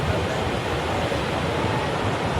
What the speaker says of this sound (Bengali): আর জলের ঢেউটা তো অসম্ভব সুন্দর